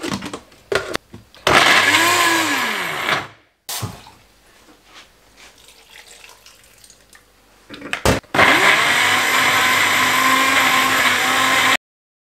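Blender mixing homemade seasoning with olive oil, two loud whirring runs with a rising then falling pitch as it spins up, separated by a quiet pause with faint handling clatter.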